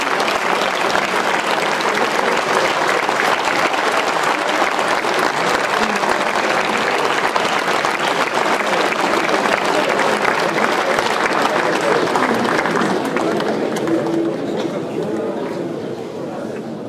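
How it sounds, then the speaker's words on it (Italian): Outdoor crowd applauds a fire brigade band at an evening concert in Atessa, thick continuous clapping with some cheering and chatter mixed in, loud throughout and easing slightly at the end. "Facciamo ancora un grande applauso all'Università Donato di Martire e alla banda dei Vigili del Fuoco"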